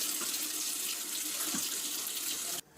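Cool water runs steadily from a tap into a sink to soak a wool jumper, a continuous close hiss and splash that stops abruptly near the end.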